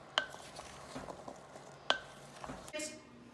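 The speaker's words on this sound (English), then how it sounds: "Then stir those cranberries together." Fresh cranberries being stirred through a dry flour mixture in a mixing bowl for cranberry orange bread, a soft scraping stir with a few sharp clicks of the utensil against the bowl, close and quiet.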